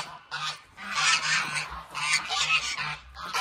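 A goose honks repeatedly while attacking a bucket on a farm animal sanctuary, loud and close, in rhythmic bursts with scuffling between calls.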